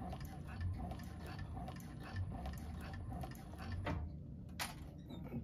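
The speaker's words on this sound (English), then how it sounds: "let's do a couple more stitches here" A 1341 cylinder arm sewing machine stitching through a bag, its rapid mechanical clatter running steadily and close throughout, with a few brief louder clicks near the end.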